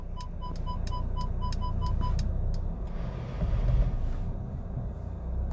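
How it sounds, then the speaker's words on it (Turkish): A car parks itself in reverse using its cameras, with rapid evenly spaced parking-sensor beeps over a low engine hum, then the beeping stops as the engine and tyre noise swell briefly. "kameraları sayesinde kendi kendine rahatça park edebiliyor"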